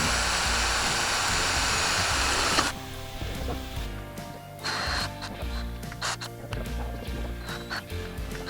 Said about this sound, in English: So I'm drilling and tapping the steering arms to make sure that the steering arm will be attached to the kingpin.